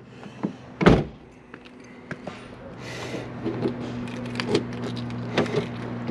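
Power door locks on the driver door of a 1994 Chevrolet Impala clunk, starting with one sharp loud thunk and followed by softer mechanical clicks and thumps, close by in a quiet interior.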